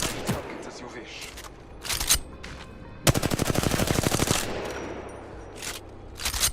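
Rapid automatic gunfire from a weapon in the Apex Legends tutorial, a steady burst of closely spaced shots lasting over a second, with scattered single shots and clatter before and after.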